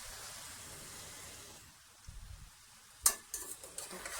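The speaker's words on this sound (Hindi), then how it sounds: "अब मैं इसमें चावल मिलाने लगी हूँ।" Boiled rice is stirred into frying vegetables for egg fried rice, a soft steady sizzle giving way to a few scraping, clattering stirs in the pan close by, with no talking.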